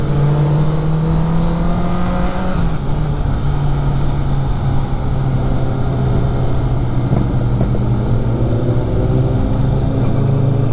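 A red BMW S1000RR superbike with an Akrapovic exhaust revs loudly and steadily up close at a superbike riders' breakfast meet, its engine tone shifting pitch partway through without pause.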